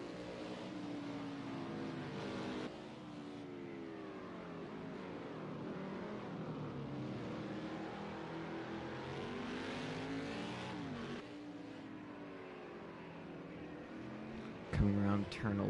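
Two race cars contest the lead in a racing video game, with a continuous engine drone that rises and falls in pitch as they accelerate and shift. Commentary runs over the engines, and a sharp burst comes near the end.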